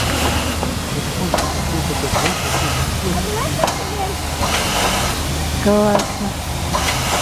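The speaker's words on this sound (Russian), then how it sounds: "И пар идет, смотри, настоящий паровоз." A steam locomotive hisses steam at night beside a Ded Moroz holiday train, a continuous loud broadband rush filling the scene while a person speaks briefly over it.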